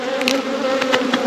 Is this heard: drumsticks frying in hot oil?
no